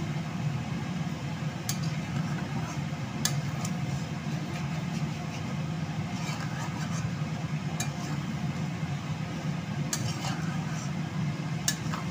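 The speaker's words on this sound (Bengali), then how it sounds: "এরকমভাবে আমি কষতে থাকবো যতক্ষণ না শুকনো।" Mutton kala bhuna masala stirred and fried in a pan, a steady low sizzle with occasional sharp clinks of a utensil against the pan, continuous and close.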